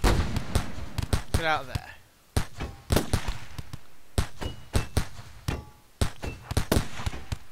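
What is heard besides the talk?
gunfire in the video game RimWorld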